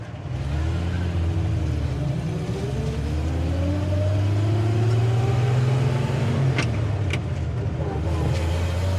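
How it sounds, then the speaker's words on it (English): A 1953 Chevrolet Bel Air engine runs steadily with a slight exhaust leak, giving a loud, continuous low rumble with a gently rising pitch and a few faint ticks near the end. "Sounds like she might have just a little bit of an exhaust leak"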